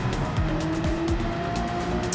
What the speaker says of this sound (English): I did hear his engine on the limiter